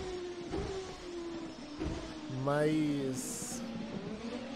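A 1999 CART race car engine in an Assetto Corsa mod whines through its gears, with a sharp rising rev sweep in the middle, while someone talks over it throughout.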